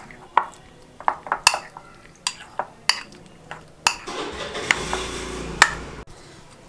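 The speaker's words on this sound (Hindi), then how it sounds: "अब हम इसको जो अंडा फेंटा था हम उसके अंदर डाल देंगे, इसको भी हम अच्छी तरह से मिला लेंगे।" Chicken pieces are stirred through beaten egg in a metal bowl, with repeated sharp clinks and scrapes of utensil against the bowl, close and fairly loud, and a brief spoken word at the start.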